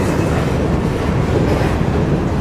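A freight train runs steadily on the rails between Dallas and Houston, a loud, continuous low rumble and rattle of railroad cars heard up close, with no talk over it.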